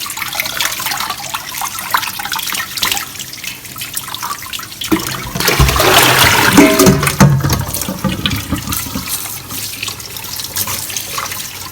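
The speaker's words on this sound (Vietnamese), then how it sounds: "Rồi mình mở cái vòi nước đó, mình rửa, mình dội cái vòi nước ở bên trong nè" Running tap water splashes over mustard greens being rinsed in a sink, a steady close wash that swells louder midway as the flow hits the leaves.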